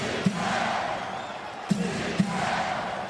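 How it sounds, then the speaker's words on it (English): A home basketball crowd at a Brooklyn Nets versus Miami Heat game roars steadily as fans rise to their feet, with a few sharp ball bounces or thumps punctuating the sustained cheering. "Home crowd on their feet."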